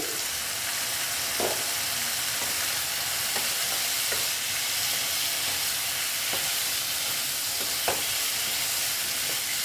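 Mung dal kalia masala with potatoes sautéing slowly in a pot makes a steady, loud sizzle throughout, with a few soft scrapes and taps from stirring.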